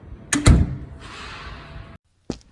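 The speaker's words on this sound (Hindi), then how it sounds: "कहीं से दरवाजा खुलने की आवाज आ रही है।" A cartoon door opens with a couple of sharp knocks or clunks, then a steady airy creak or slide that stops abruptly, followed by one short thud.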